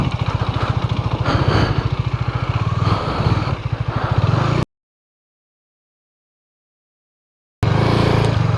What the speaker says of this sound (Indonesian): Lumayan ramai, banyak motor.